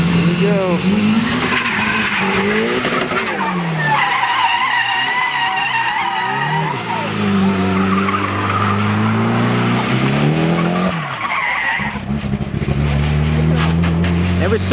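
A boosted Pontiac GTO drift car slides through wet corners in the rain, its tires squealing and skidding over a loud, roaring engine that rises and falls as it swings between slides.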